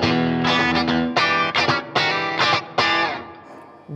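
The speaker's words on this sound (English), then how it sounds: "This is with a little bit of overdrive on it, a little bit of spank" Electric guitar with overdrive plays a handful of bright, gritty chords and stabs, loud and close, ringing out briefly between strums with no voices.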